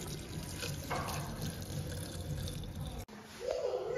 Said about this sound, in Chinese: 这水够了吗，小溪？